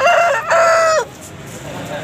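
A rooster crows loudly and close at a weekly country-chicken market in Gollapalem, one long strained call in two rising and falling stretches, then fading into quieter market background.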